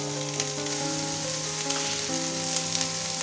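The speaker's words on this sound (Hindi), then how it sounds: "मटर ऐड करने के बाद हमने इसको 3 से 4 मिनट तक इस तरह सौते करना है" Potatoes and peas sauté in a pan for a homemade vegetable pulao, giving a steady, close sizzle with faint crackles and stirring throughout, with no talking.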